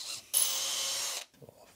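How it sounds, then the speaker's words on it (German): A tool drills out a rivet in a short, steady burst of high whirring grind lasting about a second, cutting off abruptly, with a faint clatter afterward. "Erstmal hier die Niete raus."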